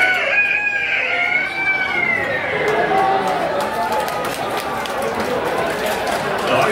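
A rooster crows in a long, drawn-out call that rises and trails off, set against steady background noise with chatter and scattered clucks nearby.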